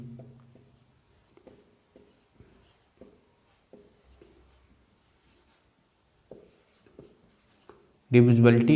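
Marker or chalk strokes on a board during a Hindi-language maths lesson on divisibility, heard as faint, scattered scratchy taps and strokes in a quiet room, with a loud voice breaking in at the very end.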